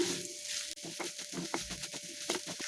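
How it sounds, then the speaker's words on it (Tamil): Beetroot sautés in masala in a pan for a beetroot kurma, a soft, close sizzle broken by rhythmic stirring scrapes and taps of a spoon, fairly quiet overall. "இப்போ இந்த பீட்ரூட்டையும் சேர்த்தி நல்லா வதக்கிக்கலாங்க"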